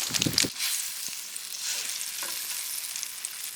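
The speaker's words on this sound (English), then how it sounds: "I'm gonna make some strawberry banana pancakes, and I am warming up this bacon I pre-cooked before coming out." Strawberry banana pancakes and pre-cooked bacon sizzle in a pan at an outdoor wilderness camp, a steady close frying hiss with a brief louder burst of crackle at the start and no talking.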